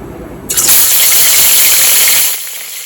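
Rohu fish pieces dropped into hot oil in a wok set off a sudden loud, bright sizzle that holds steady for about two seconds and then fades sharply.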